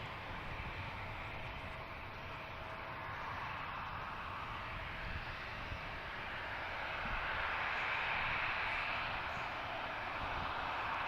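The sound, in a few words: Delta Connection E175 airliner from LaGuardia arriving at DCA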